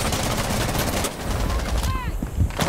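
Rapid gunfire in a Rainbow Six Siege match, loud bursts of shots crackling continuously and densely, with short ringing tones near the end, heard alone with no voices.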